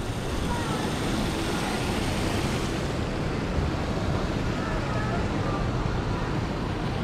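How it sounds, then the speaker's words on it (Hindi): Steady broadband rushing of falling water, loud and continuous throughout, with faint voices mixed into the roar at Riverland Dubai. "है ये पानी गिर रहा है यहाँ से"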